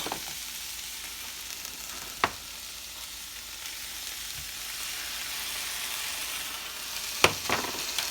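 Chopped onion fries in a pan for smothered okra with shrimp, giving a soft, steady sizzle close by, broken by a couple of sharp utensil clicks.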